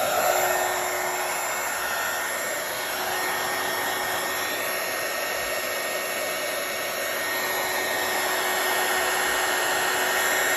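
A heat tool used to melt embossing powder for card making blows with a steady, loud whooshing hum that holds nearly constant, close and without any talking.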